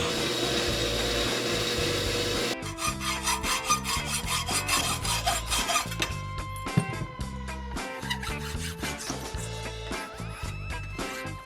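Harsh, rapid grinding and rasping of a blade cutting steel square tubing, steady and loud for most of the clip after a brief noisy start.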